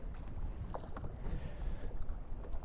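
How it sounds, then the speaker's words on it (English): Wind blows across a lake while someone fishes for spring crappies from a boat, a low, steady rumble and buffeting against the microphone with faint water sounds, and no talking. "this wind is making things difficult"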